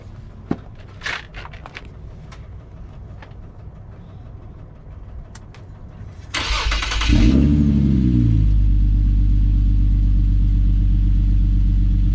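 After some light clattering and background noise, an Infiniti G37 engine with an aftermarket Beluga exhaust fires up and revs loudly with a raspy, throaty note, then holds a rumbling idle.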